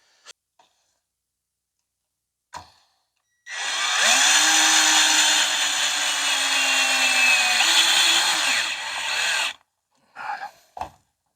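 A power drill drives self-drilling sheet metal screws while building a bench grinder stand: one loud, steady whirring run of about six seconds with a slight pitch dip near the end, framed by a few short knocks before and after.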